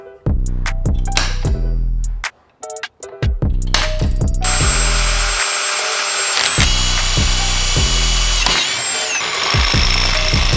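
A power drill boring bolt holes into an aluminium spacer for a 4WD gearbox mod, with repeated short whirring bursts and stops, then a longer continuous run of drilling with grinding metallic tones.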